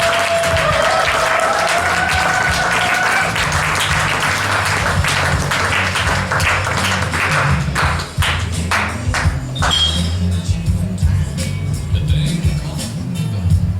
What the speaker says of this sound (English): Let's give a huge round of applause for LaRoche.